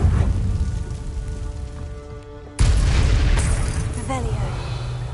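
An Incendio fire spell cast in Hogwarts Legacy erupts as a sudden loud whoosh and boom midway, followed by a crackling burst, after a steadier magical hum with a spoken voice.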